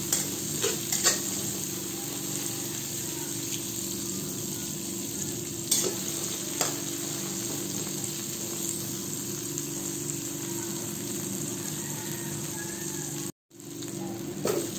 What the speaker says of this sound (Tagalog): Gisahin lang natin yun hanggang sa lumambot na ang kamatis.